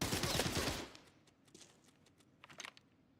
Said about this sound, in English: I unloaded the mag on accident.